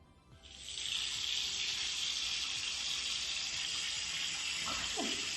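A tap opens and water runs steadily into a basin, a close, bright, continuous rush that starts after a brief quiet moment, with a faint voice near the end.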